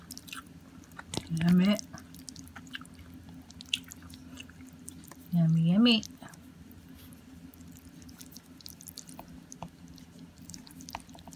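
Close, wet chewing of Napolitan spaghetti with sausage and ripe tomatoes, soft squishy bites over a low background hum, with two brief louder vocal hums of enjoyment between mouthfuls.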